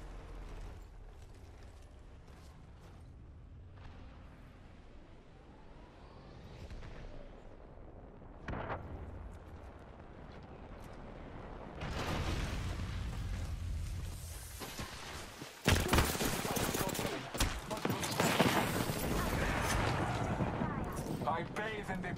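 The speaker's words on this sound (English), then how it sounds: "Shots fired, and they're hitting me" Gunfire in Apex Legends starts faint and distant, then grows into loud, close, sustained bursts and impacts toward the end, with a character's voice talking over the fight.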